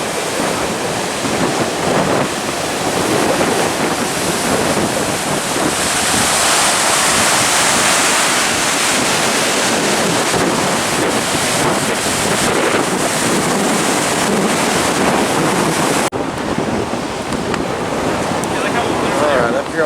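Strong wind roars across the top deck of Cherry Grove Fishing Pier in North Myrtle Beach over rough, big-wave seas, a loud, steady buffeting blast with surf rumbling underneath, continuous for the whole stretch.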